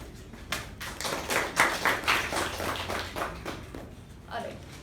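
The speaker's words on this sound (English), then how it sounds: "This is me trying to wheedle you all into giving them all a big round of applause." A small audience at a club meeting claps, the separate hand claps distinct and rhythmic, swelling in the middle and then thinning out over about four seconds.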